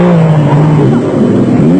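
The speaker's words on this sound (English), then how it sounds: "the action was thick and fast as one vehicle after the other left the start line" Off-road race vehicles at the Barberspan Off Road Race in South Africa rev hard as they leave the start line, a loud, continuous engine drone with rising pitch throughout, close by.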